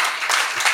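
An audience applauds to welcome a guest, a short, dense burst of many hands clapping at close range with no talk over it.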